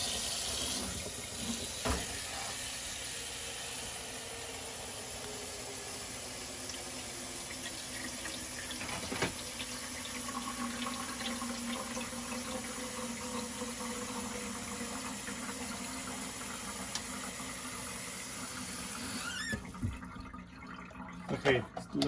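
Water trickles steadily through a Brita pitcher filter, a soft continuous pouring and dripping that runs for most of the stretch before ending with a few handling clunks.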